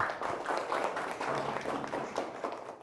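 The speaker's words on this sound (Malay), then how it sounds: "beri tepukan kepada Mr. Pepejal" Students in a classroom clap for a classmate during a science role-play lesson, a steady patter of applause lasting nearly three seconds at moderate level with faint voices underneath.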